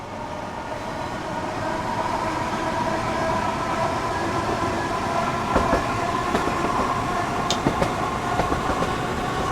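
A train runs steadily in Train Simulator 3, a loud continuous rumble with a droning engine tone and scattered clicks of wheels over rail joints, no speech.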